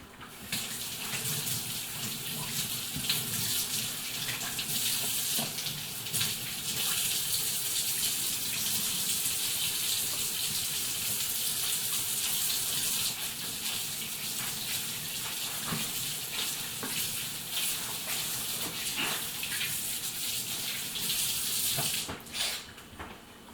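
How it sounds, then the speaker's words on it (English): A kitchen tap runs in a loud, steady stream as hands are washed after grating potatoes, with faint splashing shifts throughout before the flow cuts off near the end. "So, I'm gonna wash my hands."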